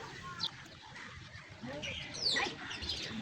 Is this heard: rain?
no